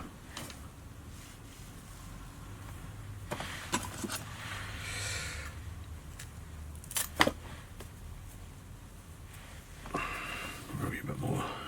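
Scissors snipping hair while tying a crazy legs spider fly, a few soft close clips spread through a quiet stretch.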